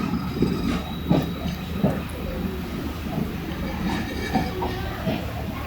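A diesel locomotive leading a freight train rumbles steadily nearby in Pakistan, a heavy low engine drone with faint rhythmic clatter of wheels over track, no voices.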